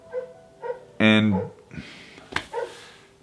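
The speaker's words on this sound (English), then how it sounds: "There go the dogs again." Dogs barking in short bursts, several sharp barks and a yelping whine spread across the moment, fairly close, with no talk over them.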